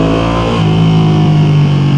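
A Ducati Panigale V2 with a two-cylinder Desmo engine revs loud and close, holding a strong, steady high-rpm drone for about two seconds.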